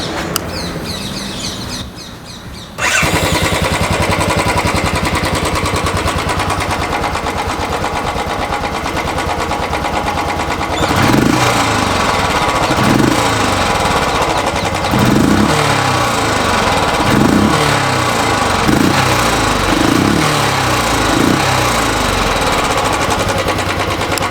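A 2021 Royal Enfield Classic 350 Stealth Black motorcycle engine idles with a loud steady thump, then revs in a rhythmic run of about seven repeated rising blips, close to the microphone.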